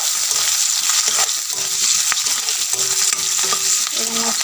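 Chopped onions sizzling in hot oil for an Assamese-style mutton curry, steadily frying with intermittent scrapes and clinks of a spoon stirring the pan, close and alone without talk.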